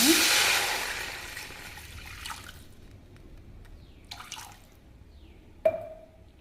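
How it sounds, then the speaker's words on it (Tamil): Water splashes and trickles into a cooking pot, a burst of pouring that tapers off into a few scattered drips and a final clink. "ஒன்றுக்கு ஒன்றரை வீதம் தண்ணி ஊற்றிக்கலாங்க"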